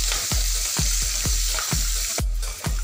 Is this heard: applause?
no